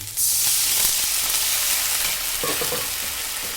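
Water poured onto onion and tomato fried in a pan for upma, bursting into a loud, sudden sizzling hiss that keeps up steadily and close, with faint stirring scrapes.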